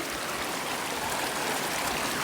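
A river flows at a wishing pool on a nature walk, a steady, full rush of running water heard close and continuous with no voices.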